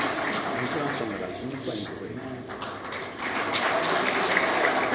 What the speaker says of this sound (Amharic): ለዮሐና ሞቅ ያለ ጭብጨባ።